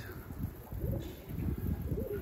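A tumbler pigeon coos softly nearby in a short run of low, throaty calls, with nothing else heard.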